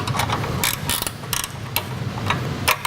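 Wrenches ratcheting while a walk-behind Earthquake lawn edger is put together, with bursts of quick mechanical clicking and clatter that come and go several times, close by and moderately loud, with no voices.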